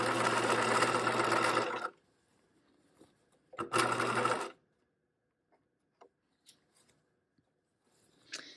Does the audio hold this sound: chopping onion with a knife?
no